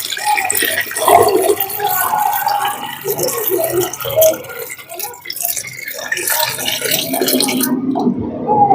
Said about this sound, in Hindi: तो अब हम इसमें डालेंगे ये 10 लीटर पानी।